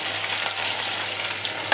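Chopped onions hitting oil heated over a medium flame for a fish curry, producing a loud, continuous, close-up hiss of sizzling with no voices.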